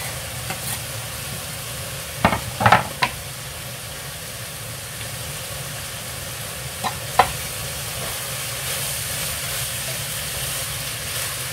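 Vegetables with celery cooking in a pan, a steady low sizzle and hiss with a few clattering stirs and knocks of a utensil.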